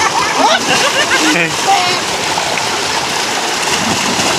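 Children bathe and splash in a small village swimming pool, with bursts of splashing water over a constant watery wash, while voices chatter nearby.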